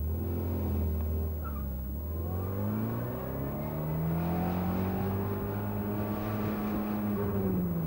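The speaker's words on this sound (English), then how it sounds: "Now the car will accelerate from rest." A car accelerating from rest: a close engine hum that climbs steadily in pitch as it gathers speed, heard alone without speech.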